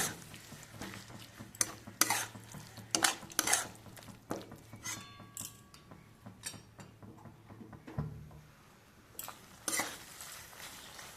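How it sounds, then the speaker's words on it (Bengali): Ginger-garlic spice masala stir-fried in a pan on a gas flame, with steady frying sizzle under repeated scraping and clinking of a spatula against the pan, close and alone. "ভালো করে কষিয়ে নেব যতক্ষণ পর্যন্ত কাঁচা আদার গন্ধ রসুন না যায়"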